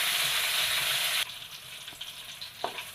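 Chillies fry loudly in hot oil with a steady, close sizzle that drops to a quieter crackle partway through, followed by a few light knocks of a ladle.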